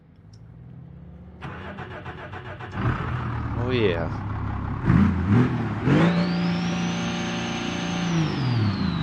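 Car engine in the BeamNG video game running 20 pounds of turbo boost, revving up hard with rising whine, then holding a high, strained drone; a voice briefly exclaims over it.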